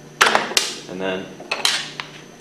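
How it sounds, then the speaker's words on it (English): Metal scraping and sharp clinks as two flat screwdrivers pry the impeller off a Hypro centrifugal pump shaft, several close, loud bursts with short pauses between them. "use the 2 flat screwdrivers to pry off the impeller."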